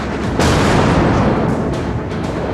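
Warship guns fire in World of Warships, a loud, booming salvo that starts with a sharp burst and rolls on in a thick, rumbling wash, with fainter follow-up blasts near the end.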